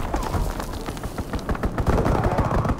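Rapid, heavy gunfire rattles in dense bursts during an aircraft strafing run in Call of Duty: WWII, loud and continuous with booming impacts mixed in.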